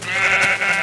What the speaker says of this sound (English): Why does the sheep not have any wool?